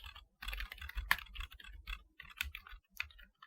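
Rapid typing on a computer keyboard while writing Python code, irregular bursts of crisp clicking keystrokes with short pauses, close and alone without any voices.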